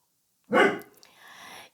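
A single sharp dog bark bursts out close and loud after silence, followed by a quieter trailing huff or whimper before fading out.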